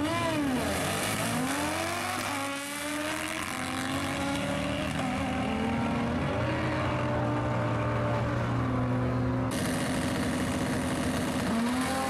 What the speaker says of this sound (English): Paige in the close lane, Nitrous Hayabusa.